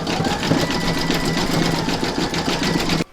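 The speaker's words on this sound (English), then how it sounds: "Pop your hoop back into your machine and stitch round number 7" An embroidery machine zigzag stitching along a join in the hoop for an in-the-hoop stacked Christmas tree, a fast steady mechanical whir with rapid needle chatter, close and loud until it stops abruptly.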